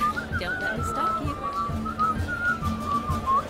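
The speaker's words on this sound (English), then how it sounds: "That's hard to whistle." A person whistles a wavering jig tune, steady and fairly loud, over rhythmic thumps and shuffling like dancing feet, with room noise behind.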